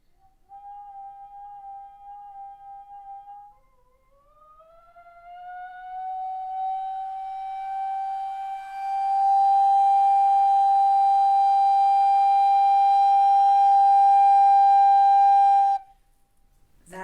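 A single sustained recorder note, soft and wavering at first, then swelling into a loud, steady pitch held for several seconds before cutting off.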